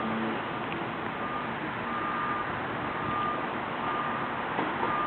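A vehicle backing into a garage sounds a steady series of reversing beeps at moderate distance, over a constant low engine and street hum, with no talking.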